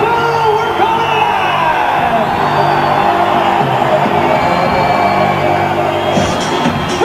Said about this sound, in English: People know they're on TV, so they're going crazy